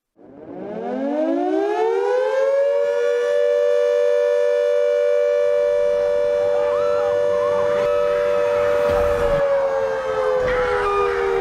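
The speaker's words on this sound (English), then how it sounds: "I woke up to the sound of an air raid siren." An air raid siren winds up from a low growl to a steady, loud wail and holds it, with faint scattered background noise and a soft thump near the end.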